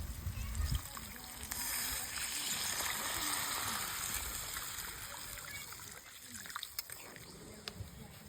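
Water is poured into a pan of potatoes and dried peas for mutton-fat ghugni, making a soft, steady trickling splash that stays faint and continuous throughout.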